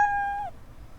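A single clear cat meow rings out from a Scratch animation, a sustained tonal cry that bends downward and fades, followed by near silence.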